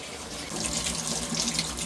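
Water runs from a tap in a steady, close rush as coriander leaves are washed under it, a continuous bright splashing with no voices.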